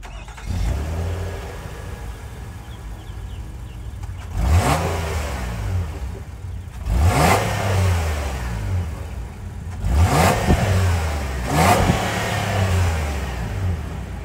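A 2024 Nissan Pathfinder's 3.5-liter V6 engine idles, then revs hard three times in quick bursts, each rising and falling back to a steady idle, close and loud.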